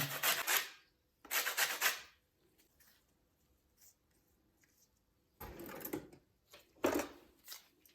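A lemon's yellow zest is grated on a kitchen grater while making quick pumpkin doughnuts: short dry rasping strokes come in two bursts, a long pause, then two more quieter bursts, all close and fairly soft.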